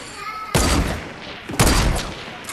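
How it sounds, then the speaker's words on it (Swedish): Two loud bursts of sniper gunfire in Fortnite, each a sharp blast trailing into rattling noise. "Han langar skott på mig."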